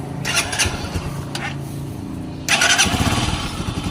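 A motorcycle engine, just after a valve adjustment and free of ticking, idles with a steady, throbbing rumble, then grows louder and rougher partway through as it's revved slightly. No talking.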